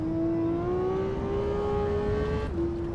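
A Porsche Cayman GT4 RS in Assetto Corsa EVO runs at full throttle, its mid-mounted engine holding a loud, steady high-pitched wail that rises slightly, then drops abruptly on a gear change near the end.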